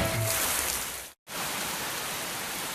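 Steady rain falls in an anime scene, a dense, even hiss broken once by a brief cut to silence before resuming.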